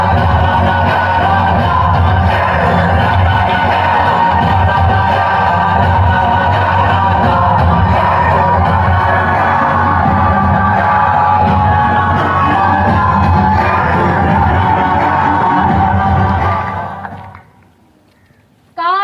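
A large audience erupts in loud, sustained cheering and shouting at a Sapt Shakti Sangam stage event, a dense roar holding steady for about seventeen seconds before abruptly dropping away into near silence.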